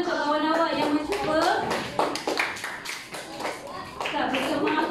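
A class of schoolchildren claps for a classmate, with brisk, uneven handclaps mixed with children's voices and a teacher talking over them.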